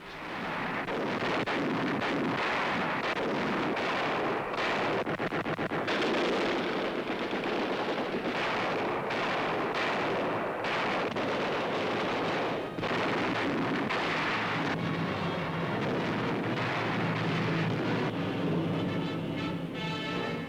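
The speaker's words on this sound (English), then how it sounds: "In the cathedral area, Allied guns open up on a German tank." Allied guns fire on a German tank in the cathedral area of Cologne during 1945 combat, recorded for a newsreel: a dense, continuous roar of blasts and rumbling with repeated sharp bursts, loud throughout with no talk.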